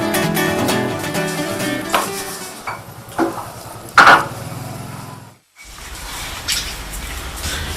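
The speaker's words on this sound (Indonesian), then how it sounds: "Selanjutnya, sarang dipotong kecil agar mudah untuk dimasak nanti." A knife or cleaver chops a honeybee nest holding larvae into small pieces on a board, giving scattered knocks and scraping taps of varying strength, with one brief gap of near silence before the cutting resumes.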